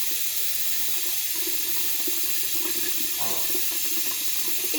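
Hot water runs steadily from a tap into a sink, a continuous close hissing splash with no speech over it.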